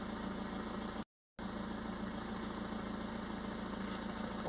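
Diesel car engine idling down after a full-throttle rev during particulate filter testing, a steady close rumbling idle with a brief dropout of sound partway through.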